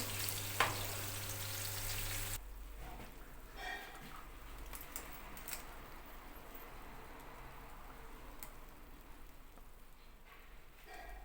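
Potatoes and eggplant frying in a pan give a steady sizzle and crackle with a broad hiss throughout, a little louder at the start and then settling to an even, moderate level.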